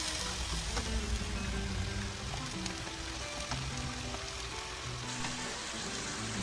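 Ground sausage fries in a pan, a steady close sizzle with crackling pops running throughout, alone without any talking.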